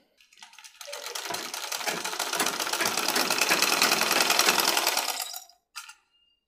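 A sewing machine runs in one continuous stitching burst while men's underwear is sewn, steady rapid needle rattle building then stopping, followed by a brief short restart at the end, close and clear with no talk.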